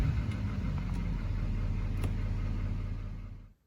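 A Duramax L5P diesel truck engine runs close by with a steady, low, heavy drone for about three seconds, then cuts off abruptly into silence.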